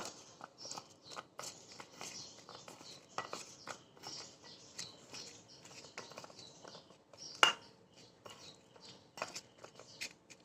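Mashed green mango is mixed with chili sauce by hand. Close, quiet, irregular squishing and soft clicking continue throughout, with one sharp clink partway through.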